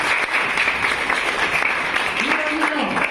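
An audience claps at a public event, producing a dense, continuous round of applause that holds steady for a few seconds, fairly close and loud, with voices faintly mixed in.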